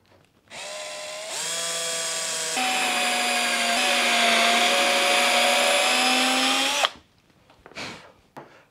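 Power drill driving screws into MDF, a steady high-pitched whine lasting about six seconds that climbs in pitch and load partway through, then cuts off abruptly, followed by a brief faint rustle.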